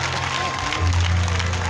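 A crowd at an evangelism crusade in Guibéroua claps in a brief, dense burst of applause over a low steady hum, with voices mixed in.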